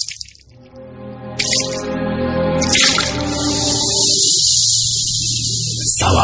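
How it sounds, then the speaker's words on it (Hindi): Slow drops of liquid plink one after another into a sink, close and clear, with a soft running trickle building behind them. "सिंक से गंदे काले बदबूदार खून की बूंदे टपकने की आवाज।"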